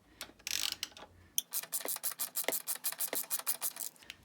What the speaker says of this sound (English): Chain adjust nuts are next with a number 5 Allen key.